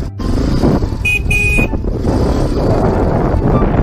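A short horn on a Yamaha Wolverine 350 ATV toots twice in quick succession over a loud, close engine rumble.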